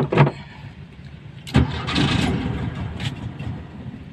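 An automatic Volkswagen car engine cranks and catches with a sharp burst, then settles into a low, uneven idle, with a few more short surges and clatters from nearby.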